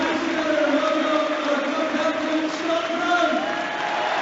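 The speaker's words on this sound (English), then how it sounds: "No surprise there is such a huge cheer for the captain." A large Celtic football stadium crowd gives a sustained roaring cheer as captain Scott Brown walks out of the tunnel, a dense continuous wash of voices at a steady level.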